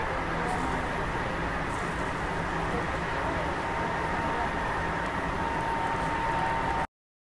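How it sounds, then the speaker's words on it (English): A steady, broadband rushing rumble of a passing train in Japan, continuous and fairly loud, then it cuts off abruptly. "Train"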